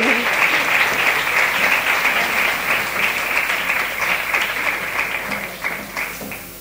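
A sustained round of audience applause fills a formal gathering for the International Day Against Gender-Based Violence, dense steady clapping from many hands holding level before easing slightly at the end.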